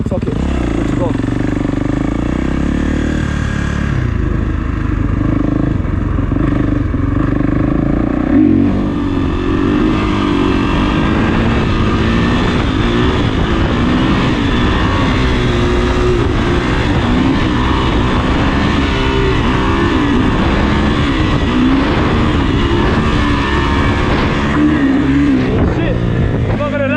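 A Kawasaki KX450 dirt bike engine revs hard and holds high through a long wheelie on a road, loud and close with rising and falling pitch, with a rider talking over it.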